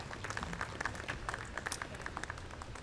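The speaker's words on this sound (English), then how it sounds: "a big round of applause, please" Faint, distant applause from a leadership conference audience welcoming a speaker on stage, a soft steady patter of clapping with a few distinct claps standing out.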